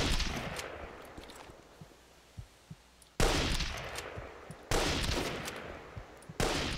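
Sniper rifle shots in the Enemy Front multiplayer game, three sharp, loud reports spaced a second or more apart, each cutting off abruptly, with faint ticks and quieter shots between them.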